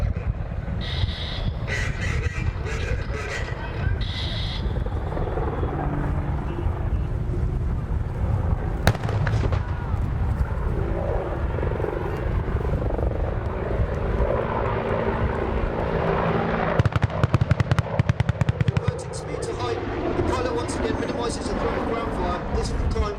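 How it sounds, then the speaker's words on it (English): Rapid bursts of 30mm cannon fire from an Apache gunship rattle out over the continuous drone of the helicopter during an air display at Duxford, with a voice speaking beneath the engine noise. "followed up with the Apache's potent cannon, firing 30mm high explosive rounds"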